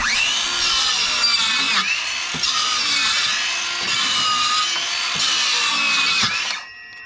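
Power saw cutting down sheet material in carpentry work, a loud, continuous high-pitched whine with slight pitch dips, running several seconds before it cuts off abruptly.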